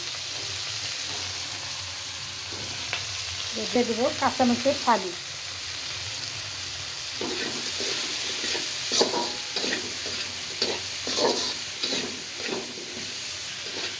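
Chopped onions sizzle in a pan with already fried koi fish, a steady frying hiss broken by stirring scrapes, and a person speaks briefly over the cooking.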